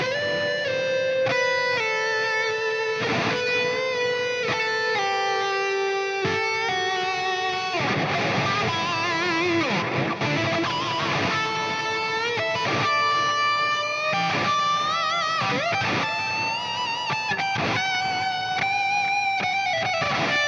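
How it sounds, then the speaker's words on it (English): Electric guitar lead through the Triple Crown amp with cabinet number 1, a smooth, sustained, singing tone with stereo delay and reverb, played as a continuous melodic phrase of held notes and bends, loud and alone. "it was actually from STL Tones folder called Smooth Lead"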